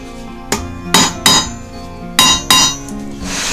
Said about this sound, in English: I'm basically bending the tooth back about a quarter of an inch off the point